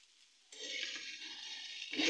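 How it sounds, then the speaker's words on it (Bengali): Egg and noodles frying in a pan in a home kitchen, a steady hissing sizzle that starts abruptly after a brief quiet moment and holds evenly, swelling a little louder at the very end. "কি সুন্দর ভাজা রান্না হচ্ছে"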